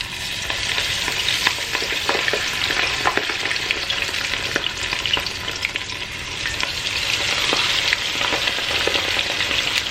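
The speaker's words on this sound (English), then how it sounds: "So what I'm going to do is add the chicken." Chicken wings sizzle and crackle loudly as they are added to smoking-hot oil in a pan, with a dense, continuous spatter of pops close by.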